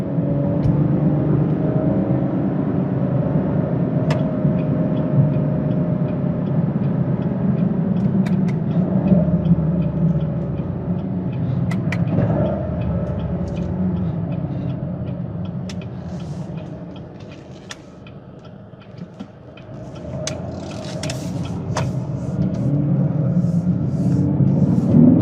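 Chevrolet Camaro SS 2SS engine pulling through the gears, a loud sustained rumble close by whose pitch climbs and resets with each shift, easing off near the end before building again, with no talking.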